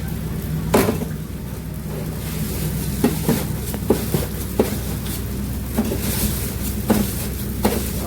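Fried poha is tossed with masala for nylon chevdo at a namkeen shop, giving a continuous dry rustling sizzle with regular scraping strokes and knocks roughly every second.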